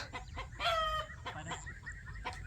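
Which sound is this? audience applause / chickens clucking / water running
chickens clucking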